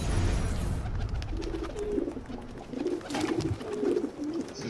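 Pigeon-like bird cooing in the video game Assassin's Creed 2, soft repeated coos in short rhythmic phrases over a steady game ambience, moderately close.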